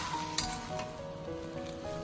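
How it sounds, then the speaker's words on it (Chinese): Soft, close bubbling and sizzling of potatoes blanching in a pot of water with cooking oil, with a light scrape and clink as a slotted spoon stirs them, fairly quiet throughout. "土豆下锅之后，用漏勺给它翻动一下，使它受热均匀"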